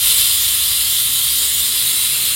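A pressure cooker vents steam in a continuous loud, even hiss, with no pauses and no talking, while lentils cook for pav bhaji.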